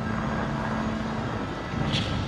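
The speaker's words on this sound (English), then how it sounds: "I think that's a thunder and lightning, guys, sound effects" A thunder-and-lightning sound effect at a live concert in Japan makes a deep, steady rolling rumble that fills the whole moment, like distant thunder or a passing jet, with no voices over it.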